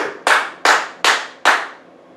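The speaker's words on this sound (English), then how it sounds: "You ain't clapping to me, you clapping to Yeshua." Four loud, sharp claps in a steady rhythm about half a second apart during a church sermon, close and crisp with a short reverberant tail after each, then fading to quiet.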